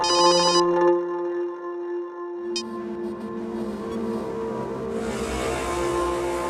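A phone rings in a repeating electronic tone, stops, then a second chiming burst follows before a steady background hum and hiss.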